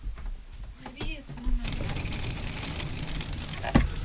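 Hail and sleet falling outside an RV in a snowy wilderness, a dense steady patter of pellets drumming on the roof and surroundings for the whole stretch, with a louder hit near the end and a few faint voice-like sounds early on.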